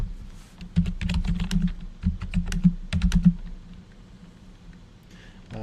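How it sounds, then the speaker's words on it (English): Rapid bursts of close keystrokes on a computer keyboard, clattering in uneven runs for about three seconds before trailing off into quiet room tone. "I'm just going to type in here for Joe to just send me a message."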